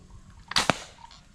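Two sharp, close cracks in quick succession from an 8 mm ball shooter firing at a bottle about 10 meters away, followed by a faint rattle and quiet outdoor background.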